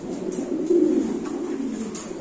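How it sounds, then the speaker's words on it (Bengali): Pigeons coo in a low, steady murmur, with soft repeated calls swelling slightly midway, close by and with no talking. "সো আমরা আরেক জোড়া কবুতর দেখাচ্ছি"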